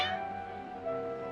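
A cat meows in the video game Genshin Impact, one short, close, clear cry with a drawn-out tone, standing alone against a quiet background.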